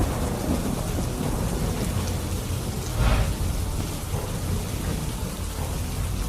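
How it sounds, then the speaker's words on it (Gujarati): Steady, dense monsoon rain pours on surfaces, with a low rumble of thunder swelling briefly midway, loud and continuous with no voices. "વાદળછાયા વાતાવરણ વચ્ચે ધીમી ધારે વરસાદ શરૂ થયો છે।"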